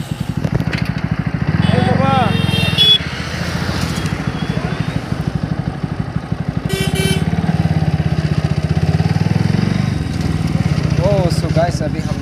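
A motorbike low on petrol rides along a road to Khumchak park, its engine chugging loudly and continuously up close, with horns honking intermittently and people talking over the ride.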